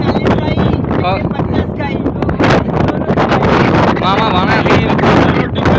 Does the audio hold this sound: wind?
yes